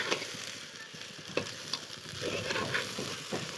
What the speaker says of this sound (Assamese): দিম চাউলখিনি অকণমান ভাজি থাকিম, অকণমান ফুটি নুঠালৈকে ভাজি থাকিম।